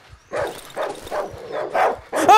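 Dogs barking in the horror survival game Darkwood, a run of repeated loud barks and yelps close by, with a harsher burst at the end and no talk over them.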